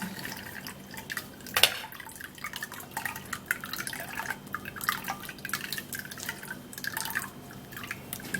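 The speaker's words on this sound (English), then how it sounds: "Now I'm going to be sieving the cucumber out" Liquid drips and trickles steadily through a sieve as cucumber is strained out of pepper tea, close and fairly quiet, with one brighter splash early on.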